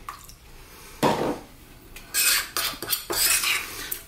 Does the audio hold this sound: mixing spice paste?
yes